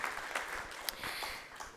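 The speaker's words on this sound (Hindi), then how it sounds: "एक बार जोरदार तालियां हो जाए इनके लिए।" An audience at a student honours ceremony claps in a brief, fairly faint burst of scattered applause with a few sharper individual claps.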